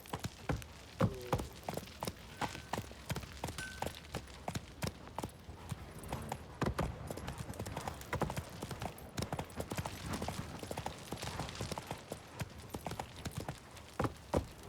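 Hooves of Roach, a horse in a video game, clip-clop in a quick, uneven walking rhythm, close and fairly quiet, with occasional faint speech.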